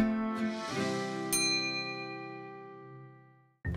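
A bright notification bell dings once, its metallic ring sustaining and slowly fading over a few seconds before a short second chime cuts in at the end.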